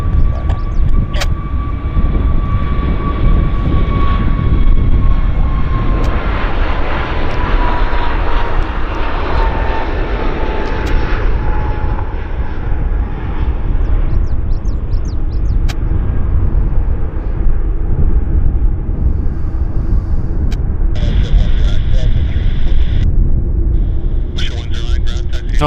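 A jet airliner takes off from runway 08 left at Vancouver airport, its engines roaring loudly and steadily at first, then receding into the distance as the climb continues, with a falling whine and faint clicks toward the end.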